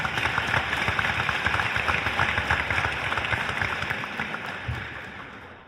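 Applause fills a school signing day ceremony, with dense, steady clapping from an indoor audience that holds at a high level and then slowly fades toward the end.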